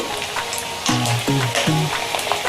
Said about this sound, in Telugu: ఆయిల్లో డీప్ ఫ్రై చేసి ఇలా ఆయిల్లో వేసుకోవాలి